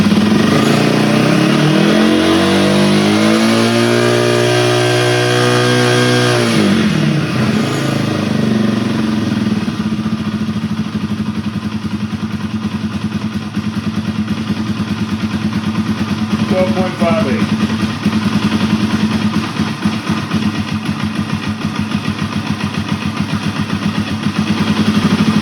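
A Yamaha TW200 motorcycle engine runs steadily close by, revving down at first and then settling into a constant, loud idle that continues throughout.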